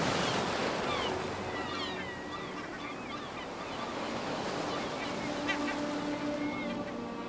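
Steady wind and waves roll in along a seashore where shrimp are fished, a continuous broad wash of surf with honking bird calls scattered over it.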